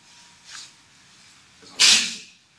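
A single sharp sneeze bursts out after a soft intake of breath, fairly close and loud against a quiet room.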